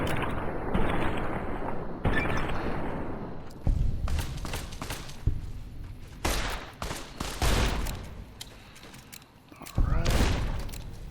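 Gunfire from enemies in the video game Fallout: New Vegas, a series of loud, close shots and thudding bursts in irregular clusters, with a voice talking over some of the shooting.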